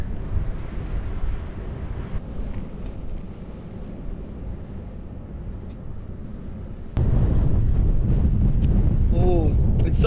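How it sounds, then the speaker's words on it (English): Strong wind buffets the microphone in a continuous low roar at an outdoor campfire cooking site, growing louder and harsher partway through, with a brief voice near the end. "it's so windy that the coffee's like doing backflips in the cup right now"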